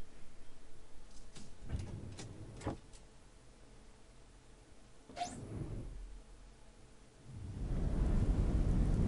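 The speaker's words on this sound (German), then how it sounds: "Na toll. Es regnet schon wieder." A deep rumble of thunder swells near the end over steady rainfall in the game The Moment of Silence, after a few scattered thumps and a brief whoosh.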